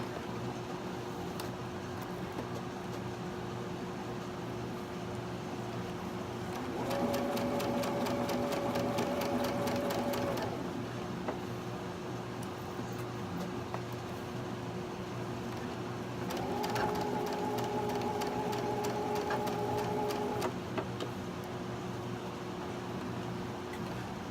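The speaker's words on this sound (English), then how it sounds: "Let's see if we can get this sewn now." Sewing machine stitching together pieces of a Halloween quilt, running in two steady bursts of several seconds each with a quiet pause between, close by over a constant low room hum.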